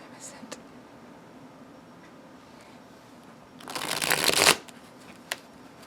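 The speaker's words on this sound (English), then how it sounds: "let's go ahead and shuffle these together" A deck of glossy knowledge cards is shuffled once, a loud, dense riffling burst lasting under a second, followed by a sharp tap against a quiet background.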